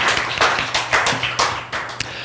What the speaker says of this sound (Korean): 격려 위로 박수 한번 부탁드리겠습니다